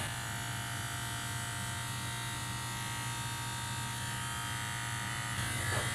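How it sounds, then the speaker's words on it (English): An electric trimmer runs through a light trim session, giving a steady, close mechanical buzz that holds even and unbroken the whole time, with no talking. "it probably doesn't even look like I'm trimming anything because I'm barely trimming anything"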